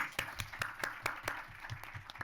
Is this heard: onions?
no